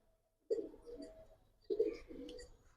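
Small pigeons in a Budapest highflyer loft give two soft, throaty coos, each a short rolling burst, close and clear against near silence.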